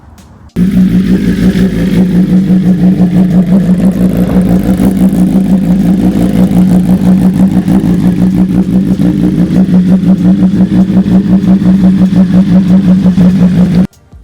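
A 2024 BMW M1000R motorcycle, cold and not yet warmed up, revs steadily to about 6,000 RPM. The loud, close engine drone holds for roughly thirteen seconds and then cuts off.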